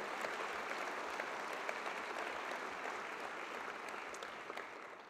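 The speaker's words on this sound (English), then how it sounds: "Let's give her a round of applause" An audience at a university convocation claps in sustained, dense applause, a steady crackling wash that fades slightly toward the end.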